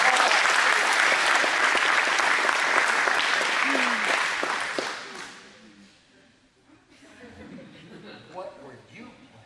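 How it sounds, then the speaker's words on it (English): Loud applause from an audience honouring a young performer, dense clapping for about five seconds before fading into scattered claps, murmurs and a voice talking. "Give her a big round of applause"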